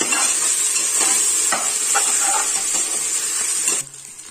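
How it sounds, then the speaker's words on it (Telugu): Ginger garlic paste fries in a pressure cooker with a loud, steady sizzle and hiss broken by stirring scrapes, the sizzling dropping away sharply near the end. "అల్లం వెల్లుల్లి పేస్ట్ పచ్చివాసన అయ్యేంత వరకు వేసుకున్నాను"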